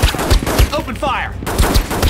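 Rapid gunfire in a PC crime shooter game, repeated loud close bursts of shots with someone shouting between them.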